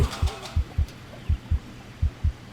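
Heartbeat effect from the survival game Green Hell: a steady run of deep, muffled thumps in close double-beat pairs, loud and close, with faint game ambience behind.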